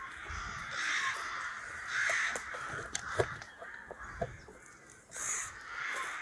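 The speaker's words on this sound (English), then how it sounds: "The rookery is really loud at this time of year as well, because obviously we've got loads of" Rooks cawing in a busy rookery at a farm in breeding season, several harsh caws at varying distances rising and falling across the scene, with no talk.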